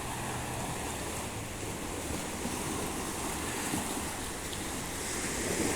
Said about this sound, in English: the waves rushing into the shore